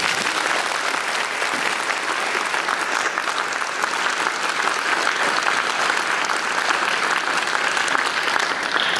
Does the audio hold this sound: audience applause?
yes